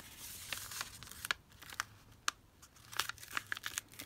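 Paper is folded by hand into a double page pocket for a craft project, giving scattered close crinkles and sharp creasing clicks at an irregular pace over a quiet background.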